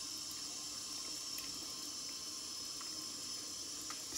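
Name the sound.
running water rinsing shaving soap lather off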